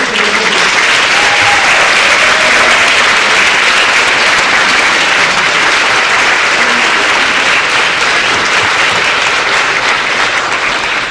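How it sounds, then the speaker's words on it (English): A large audience at a health recognition celebration gives the nominees a long, loud round of applause, sustained dense clapping that holds steady for over ten seconds, with a few faint voices mixed in early on. "How about one last final great round of applause for all of our nominees?"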